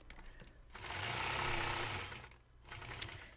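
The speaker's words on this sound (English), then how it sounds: "stitching over some of the lines that I've previously stitched over" A sewing machine quilting a mountainside quilt top with neutral gray thread, stitching back over earlier lines in two sustained whirring runs separated by a short pause, close and steady.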